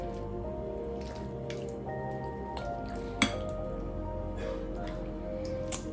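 Chicken breasts, patted dry, being tossed and coated in a marinade: soft wet squishing and dripping sounds run steadily throughout, with one sharper click midway, close and fairly quiet with no talk.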